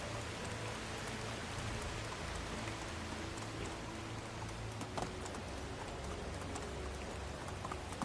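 Steady rain falls in the video game Medieval Dynasty, a dense, even hiss of drops on surfaces with occasional louder drips, continuous and moderately quiet with no talking.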